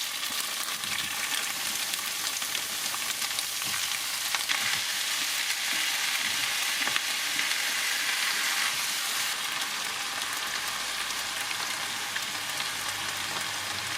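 Tofu fries in a pan while mapo tofu is being made, a steady close sizzle and crackle of hot oil with occasional stirring, continuing alone without talk.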